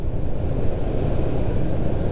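Car traffic slowing along a congested, narrowed street in front of a market in Lawang, Malang, heard as a loud, steady rumble of engines and road noise with no break.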